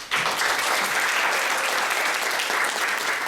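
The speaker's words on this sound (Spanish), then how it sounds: "Un aplauso" Audience applause at a social work lecture on human trafficking, a dense steady clapping that starts abruptly and holds evenly loud throughout without pause.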